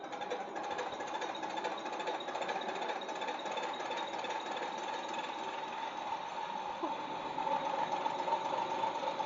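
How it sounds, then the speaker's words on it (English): A MINI12PSB diesel injection pump test bench runs a mechanical pump with a steady, fairly faint mechanical whirr and buzz, an even, continuous drone with no voices. "how to testing mechanical pumps on our MINI12PSB diesel injection pump test bench"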